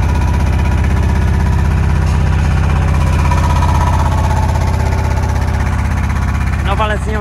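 A HAMM HD 10K combined steel-and-rubber road roller runs with a loud, steady, throbbing engine rumble as it pulls away, close by. A brief voice is heard near the end.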